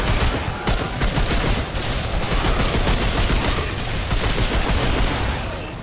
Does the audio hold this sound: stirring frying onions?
no